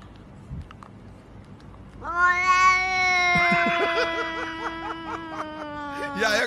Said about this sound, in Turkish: Hurdacı diyen kedi.